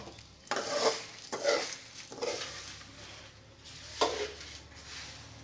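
Poppy seeds and turmeric being dry-roasted in a pan for sambar powder: repeated scraping stirs with a spoon against the pan, about five strokes in an uneven rhythm, close and fairly quiet, with a faint sizzle underneath.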